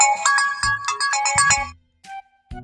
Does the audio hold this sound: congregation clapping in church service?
no